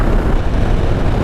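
A 2020 Harley-Davidson Heritage 114 motorcycle with staggered exhaust cruises steadily at about 2600 RPM and 70 mph, giving a continuous loud low rumble mixed with heavy wind rush, with no talking.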